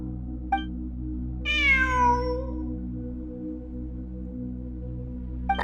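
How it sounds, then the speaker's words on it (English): A cat meows once in the Genshin Impact game, a clear drawn-out descending mew over a low steady ambient hum, with faint short chirps before and after. "It really is a cat."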